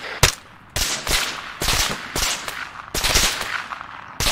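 Gunfire in the military video game ARMA 3, aimed at a rooftop, with loud close bursts of rapid shots repeating in short volleys and separated by brief pauses.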